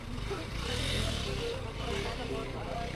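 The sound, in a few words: motorcycle struggling on snowy offroad track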